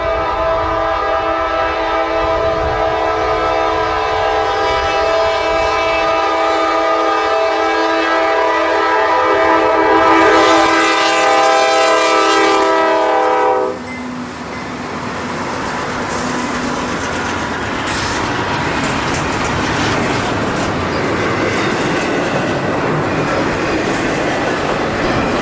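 Freight train 295 sounds a long, loud multi-tone horn, then rumbles across a railroad diamond crossing with steady clattering wheels and rolling cars passing close by.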